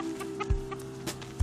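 Chickens cluck softly while pecking at small pellet-type chicken feed in a farmyard, with short low thuds and faint bird calls over a steady background hum.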